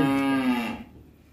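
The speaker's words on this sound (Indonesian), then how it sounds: "Sapi dari peranakan." A large crossbred sacrificial bull, a one-ton Qurban animal just led out of its pen, lets out a single loud, close moo that trails off into silence.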